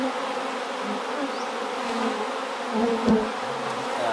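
Honey bees hum and buzz around a Flow Hive, a steady droning close by with individual insects whirring past, plus a few faint handling bumps.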